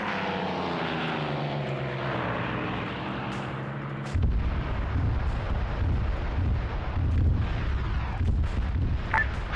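Artillery fire mission in a Vietnam war video game, with a loud rumbling barrage of booming impacts bursting in after a droning aircraft engine, continuing as a dense roar to the end.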